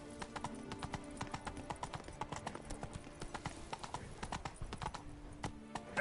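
Hooves of Roach, the horse in The Witcher 3: Blood and Wine, clip-clopping steadily on the ground in a brisk trotting rhythm, moderately close, with faint game ambience and no speech.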